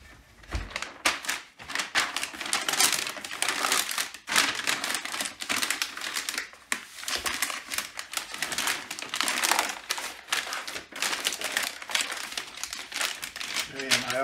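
Packing paper crumpled and crinkled while wrapping a 25-pound weight plate for shipping, with dense bursts of crackling close to the mic and someone talking through it.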